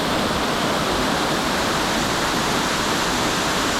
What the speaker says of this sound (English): it's got a waterfall